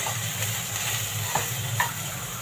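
Carrots, cauliflower florets and peas frying with a little salt in a pan for vegetable pulao, giving a steady close sizzle with a couple of soft stirring scrapes and no talk.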